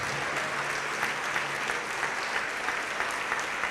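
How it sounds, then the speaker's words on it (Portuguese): Applause from a church congregation, a dense, even wash of many hands clapping at moderate loudness, continuous for several seconds with faint voices mixed in. "vamos aplaudir mais ao nome de Jesus"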